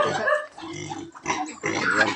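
A pig on a farm grunts and oinks loudly and close by in several rough bursts.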